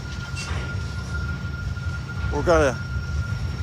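A train at Horseshoe Curve, Pennsylvania, heard as a continuous low rumble with a faint steady whine, while someone talks briefly over it.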